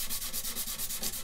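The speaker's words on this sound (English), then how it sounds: "Just sanding with the grain." Hand sanding of a guitar body along the grain, a steady raspy back-and-forth rubbing in quick regular strokes, close and fairly quiet, with no voices.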